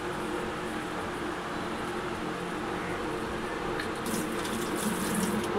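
Water pours steadily over poha (flattened rice) to soak it, a continuous close splashing gush with a brighter trickle toward the end.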